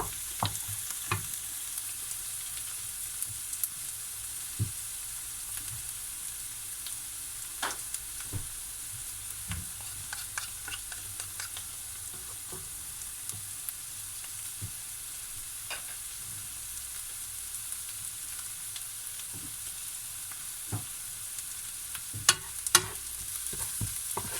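Garlic softening in a pan makes a quiet, continuous sizzle, with scattered light taps and scrapes of a utensil stirring now and then.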